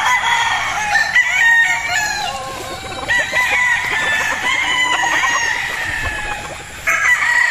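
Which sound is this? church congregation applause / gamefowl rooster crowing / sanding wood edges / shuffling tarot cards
gamefowl rooster crowing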